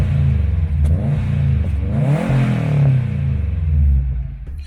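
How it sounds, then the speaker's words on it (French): Subaru car engine revving up and down close by, a loud throaty rumble rising and falling over several seconds with no talking. "Écoutez ce ronronnement. Fais le bruit d'une Subaru."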